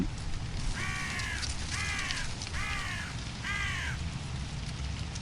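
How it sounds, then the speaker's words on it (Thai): Crows caw repeatedly, four harsh calls spaced evenly over a steady rumbling background, sounding moderately distant. "เสียงนกพากันขรมอยู่บนท้องฟ้า"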